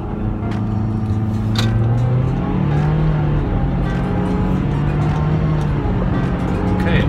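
A car drives during a brake pad bedding run after front and rear pad replacement, its engine droning and shifting pitch steadily throughout, with faint thuds and road noise and no talking.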